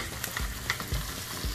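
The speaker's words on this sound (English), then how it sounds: "the onions are doing their thing, so let me add the peppers now because I need for these to all caramelize together" Onions and peppers caramelizing together in a pan for mushroom cheesesteaks: a faint, soft sizzle with a few low thuds and scrapes from stirring, no voices.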